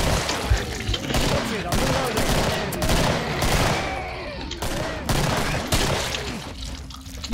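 Rapid gunfire in the Killing Floor video game as a zombie's arm is shot off, dense overlapping shots and bursts running steadily throughout at close, loud level.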